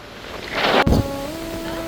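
Wind at a windy volcano viewpoint valley in Costa Rica rushes across the microphone, swelling into a brief loud buffet before settling. A faint tonal whine runs through the latter half.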